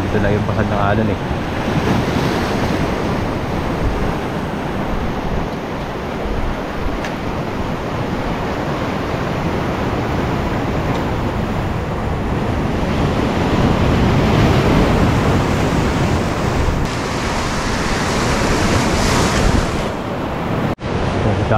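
Ocean waves washing ashore on a Palawan beach, a steady broadband surge and wash lasting throughout with swelling peaks, mixed with wind buffeting the microphone; no clear voices.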